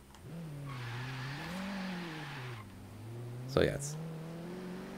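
Engine of a car in Forza Horizon 3 revving and accelerating at full throttle, a steady rising drone with shifting pitch, with someone talking over it throughout.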